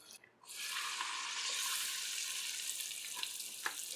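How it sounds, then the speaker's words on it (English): Bara dough drops into hot oil and fries with a sudden, steady, loud sizzle that stays bubbling and crackling close by, with no talk. "So our oil is hot for the bara."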